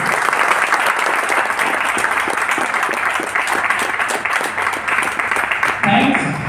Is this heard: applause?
yes